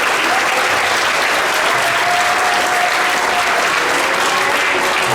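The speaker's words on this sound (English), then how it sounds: "Round of applause for the high school help." Steady, dense audience applause for high school helpers at an eighth grade middle school band concert, loud and continuous throughout with no speech over it.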